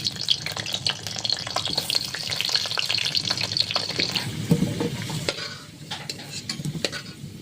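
Potatoes fry in a pan, giving a loud, close sizzle with scraping and stirring through the first half that then thins to a quieter crackle with scattered clinks, no voices.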